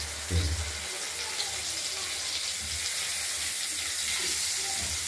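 Shelled boiled eggs frying in a pan for an egg curry make a continuous, fairly loud sizzling hiss with a few low bumps near the start.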